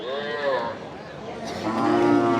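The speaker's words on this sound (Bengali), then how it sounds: "এখানে একটা গরু দেখাই আমরা এগুলি" A crossbred calf moos twice at a busy cattle market, two drawn-out, close bellows with faint crowd noise behind.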